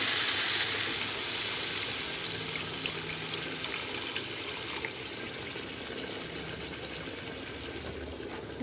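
Water pours steadily into a pot, a continuous rushing splash that gradually eases and softens over several seconds.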